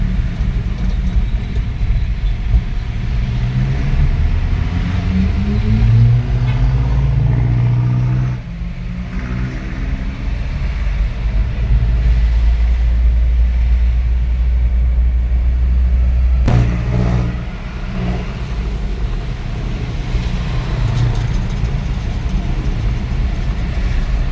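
Congested road traffic near a bridge in San Mateo rumbles steadily, with nearby car engines droning and revving, heard from inside a vehicle in heavy rain.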